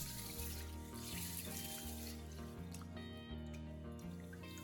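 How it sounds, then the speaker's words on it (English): Mung beans rinsed under a running kitchen tap, with a continuous steady splash and trickle of water filling the sink and a sustained tonal hum underneath. "After rinsing the beans clean, remove them and divide them into 2 equal portions."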